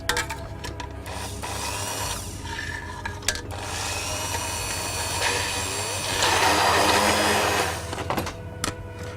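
A handheld stick blender mixes clementine panna cotta, whirring steadily and loudly with changes in pitch as it works through the mixture, and grows stronger near the end.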